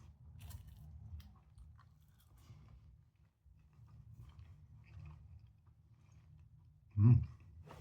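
Faint soft chewing of a Lidl Chef Select peppered steak pastry slice heated in an air fryer, quiet mouth sounds building to a single loud crunchy bite near the end, close to the mic.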